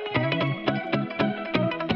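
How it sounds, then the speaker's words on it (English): A guitar loop run through an analog guitar effects pedal, plucked notes repeating in a steady rhythmic pattern with a processed, slightly distorted tone, close and alone. "We ran every single sound through an analog guitar effects pedal."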